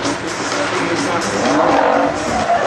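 A drift car slides sideways at a Desoto NOPI drift qualifier, its tires squealing in a loud continuous screech over engine roar.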